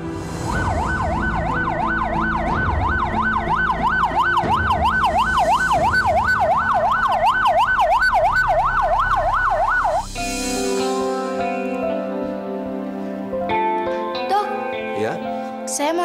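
Ambulance siren wailing loudly in a rapid, regular up-and-down cycle for about ten seconds, then giving way to music and other sounds, with voices in the mix.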